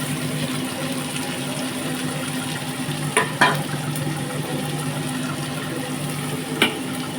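Onion frying in a pan for mutton curry, a soft continuous sizzle with a steady background hum and a few brief clanks of utensils, moderately quiet, with no speech.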